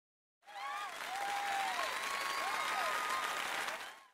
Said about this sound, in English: please give a big round of applause for our talented participants